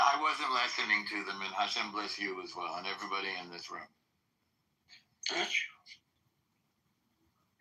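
A short, abrupt sneeze bursts out after a pause, following a stretch of someone talking, fairly close in a quiet room.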